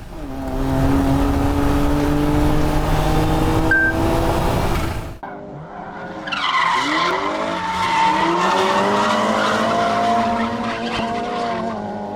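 A Kei car drifts around a track on a track day, tires squealing in long skids over a revving engine, with a brief lull before another screeching slide and engine roar.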